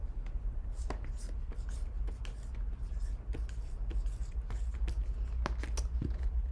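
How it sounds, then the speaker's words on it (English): A marker or pen writes a word on a board in a series of short, faint scratching strokes and taps at irregular intervals, quiet against a low steady hum. "I'll write it here."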